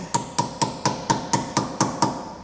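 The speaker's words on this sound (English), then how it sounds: "just take a hammer, kind of tap them in" A hammer taps parts flush on a 2020 car during an EcoHitch Invisi trailer hitch receiver install, nine sharp, evenly spaced metallic strikes ringing briefly in a steady rhythm, with no talking.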